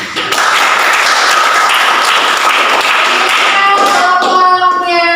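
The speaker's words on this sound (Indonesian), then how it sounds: "Berikan aplaus dulu." A classroom of students applauds a group's presentation, a dense, steady clapping that holds loud from start to finish, with a few brighter tones rising near the end.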